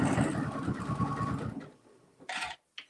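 A sewing machine stitches steadily and fairly loud for about a second and a half, then the motor stops and a couple of short bursts of fabric or handling noise follow.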